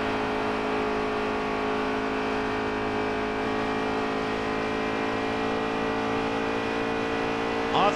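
Race cars roar together on the oval at Indianapolis, a dense, steady engine drone with layered tones, loud and continuous, with no voices over it.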